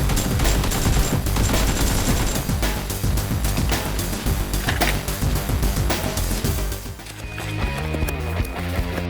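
Nerf guns fire in a play fight, a dense run of rapid clicking shots that clatters on for most of the stretch and then thins out toward the end.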